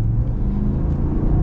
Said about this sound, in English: So we are getting our turn here to get some acceleration action.